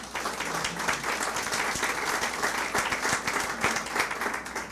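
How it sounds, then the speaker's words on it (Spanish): Church congregation applauding during a sermon, steady dense clapping from many hands filling the room at even loudness throughout. "Den un aplauso al Señor."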